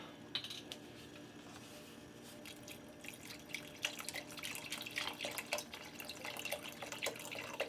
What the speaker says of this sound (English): Actually, I need to throw in a little bit more vegetable broth.